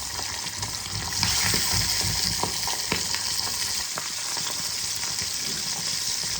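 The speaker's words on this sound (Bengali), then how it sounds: "লাল করে মাছগুলোকে ভেজে নেব।" Pabda fish frying in mustard oil, a steady moderate sizzle with scattered crackles and pops and occasional clinks of a utensil, no voices.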